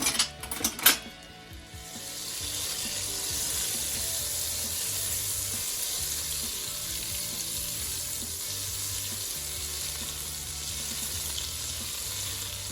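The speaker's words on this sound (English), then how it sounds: "put your pot on your stove on medium heat. You're gonna melt your butter." Butter melting in a pot on a stove over medium heat for a Jamaican Easter bun, a steady soft sizzle and hiss after some brief clatter at the start, with no talking.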